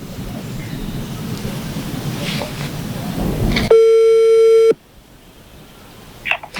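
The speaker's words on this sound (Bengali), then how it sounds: "আমি মামুনকে ফোন দিচ্ছি" A telephone busy signal cuts in suddenly after steady background noise, one loud continuous tone that holds for about a second before stopping, followed by a quieter stretch.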